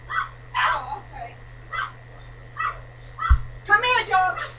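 A dog gives several short barks and yips at intervals, fairly close, with a faint steady hum underneath and a voice speaking near the end.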